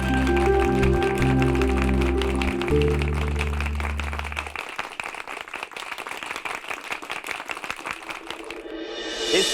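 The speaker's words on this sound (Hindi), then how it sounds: "इसलिए बबलू पुत्र के लिए जोरदार तालियां।" An audience breaks into loud, dense clapping for Bablu, with a music bed fading out under it during the first few seconds and then steady crowd applause continuing alone.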